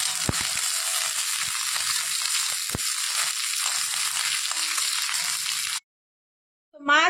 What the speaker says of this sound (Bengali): বাকি মাছ আমি দিয়ে দিয়েছি ভাজতে